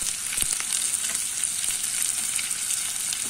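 Onions, dried red chillies, green chillies and curry leaves fry in hot oil, a loud, bright, even crackling sizzle up close with a few stir clicks and no talk.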